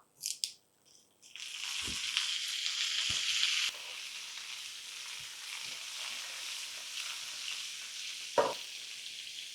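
Cumin seeds and fresh curry leaves fry in hot oil with a steady, crackling sizzle. A few sharp pops and stirring knocks land over it, and the sizzle drops a little partway through. No one speaks.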